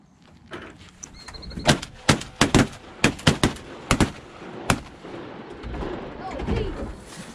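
Shotgun blasts during a teal duck hunt, about nine sharp, loud reports fired in quick succession by several hunters, with outdoor wind noise and some speech around them.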